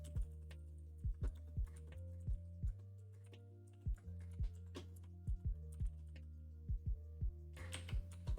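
Computer keyboard typing in bursts of sharp, close key clicks over a steady low electrical hum, with brief pauses between runs of keystrokes.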